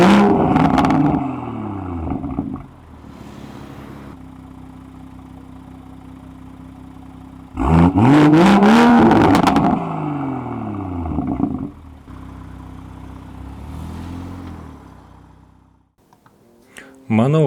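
A BMW M car driving through city streets, its engine idling and then revving hard in two loud bursts with a smoother cruising drone between them, with no voices.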